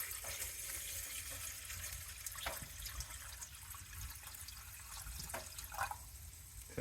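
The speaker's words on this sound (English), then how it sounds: "I'm going to get some water in for our spaghetti." Tap water runs into a cooking pot for spaghetti inside a hot tent on an overnight camping trip, a steady rushing stream with faint clinks and drips, continuous and close.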